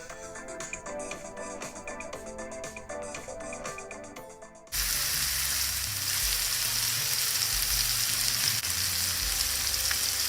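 Chopped onion with salt, pepper and cumin is stirred in a pan, first under a bright musical passage, then as a steady close sizzle and frying hiss that fills the rest of the clip.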